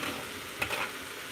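Food sizzles and crackles steadily in a hot pan, a soft hissing fry close by with a brief stir.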